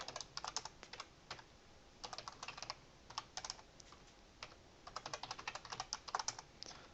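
Fingers type on a computer keyboard in quick, uneven bursts of soft clicking keystrokes, quiet and close, with short pauses between runs and no speech.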